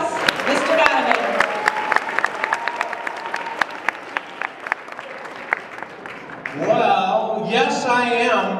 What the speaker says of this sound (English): let's give him a big round of applause, Mr. Donovan